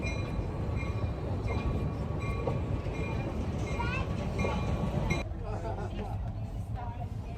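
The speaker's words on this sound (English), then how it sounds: "our train trip came to an end as we pulled into the station" A train on the Southern Michigan Railroad Society line in Clinton, Michigan rumbles and clatters as it rolls into a station, with a murmur of passenger chatter throughout and the noise easing near the end.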